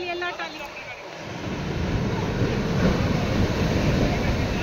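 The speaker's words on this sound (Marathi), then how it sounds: "ओ माय गॉड लाटा बघा केवढ्या लाटा" Big sea waves surge and crash continuously at the Kanyakumari shore near the sunset point, a broad, loud roar that builds and stays steady, with wind across the microphone and a voice talking briefly at the start.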